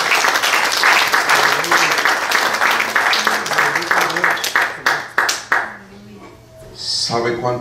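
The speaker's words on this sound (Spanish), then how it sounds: "Den un aplauso fuerte." Loud congregational applause at a church gospel service, dense clapping for about five seconds that thins into a few scattered claps and then fades, with a brief spoken voice near the end.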